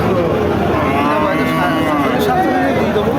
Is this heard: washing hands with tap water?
no